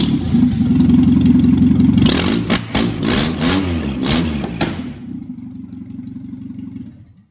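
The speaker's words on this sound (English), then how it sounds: "You guys ready to hear one ratty 4-banger?" A ratty 1981 Toyota four-cylinder engine idles roughly, then is revved hard several times in quick bursts with clattery blips before it drops back to a rough idle and shuts off, loud and close.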